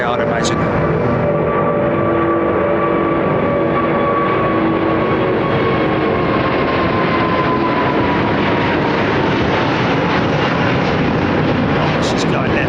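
Jet airliner departing overhead from runway 09R at London Heathrow, a loud sustained engine roar passing close above with a slowly shifting whine, people talking faintly underneath.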